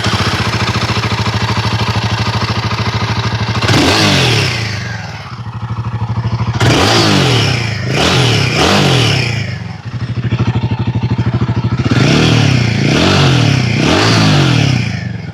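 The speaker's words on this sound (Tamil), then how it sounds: "அண்ட் இந்த பைக்கோட எக்ஸாஸ்ட் நோட் எப்படி இருக்குது அப்படின்னு இப்போ நம்ம பார்க்கலாம்." A Royal Enfield Himalayan 450 adventure motorcycle revs its exhaust several times, each loud blip rising and falling back to a steady, close idle between throttle bursts.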